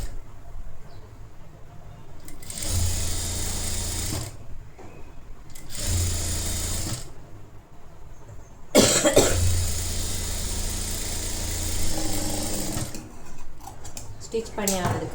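A sewing machine stitches a folded half-inch hem on a blouse in loud bursts of rapid whirring, a few seconds each, separated by short pauses, with handling noise between runs.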